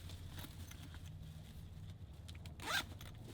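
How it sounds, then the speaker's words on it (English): Zipper on a crossbody bag pulled in one quick, close rasping stroke near the end, after quiet handling rustles at a low level. "A little zipper right here on the top, which is always a bonus."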